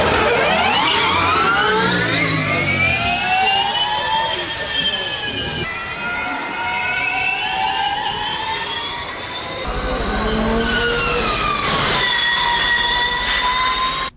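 Porsche 718 Cayman GT4 e-Performance electric car driving, a loud whining, whistling electric drive tone that rises and falls in pitch over several passes, layered with harsh, metallic high-pitched harmonics.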